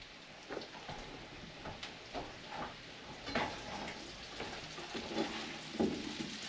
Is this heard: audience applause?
no